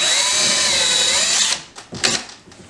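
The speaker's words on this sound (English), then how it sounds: "I'm going to hold the drill nice and straight and go directly into that part of the wall." A power drill whirs loudly and steadily for about a second and a half as it bores into drywall, then cuts off, followed by a few brief knocks and rustles.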